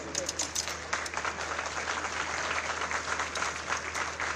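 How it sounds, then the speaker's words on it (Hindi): Audience applause for soldiers after a one-minute military drill demonstration at a foundation day ceremony, steady dense clapping from a crowd throughout, with a faint low hum beneath. "1 मिनट की ड्रिल का आशीर्वाद दे दीजिए एक बार फिर इनको तालियों के माध्यम से।"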